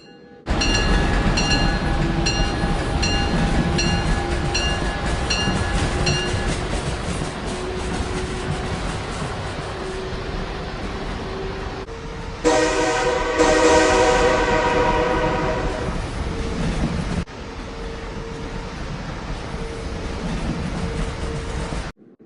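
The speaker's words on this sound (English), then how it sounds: "The train is starting and I didn't find the seat." A passenger train pulls away and runs along the rails with a continuous rumble and rhythmic rolling, a loud horn blast cutting in near the middle before the steady running resumes.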